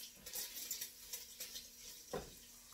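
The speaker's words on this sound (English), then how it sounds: "I'm gonna stir the bacon real quick" Bacon in a pot for potato soup being stirred, soft faint scraping and clinks of a utensil against the pot in short repeated strokes, with a light sizzle underneath and no talking.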